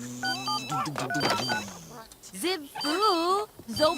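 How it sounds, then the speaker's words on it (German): A telephone rings in The Sims 3, a steady electronic ring heard near the start while animated character voices chatter loudly over and after it. "Telefon, ja gleich."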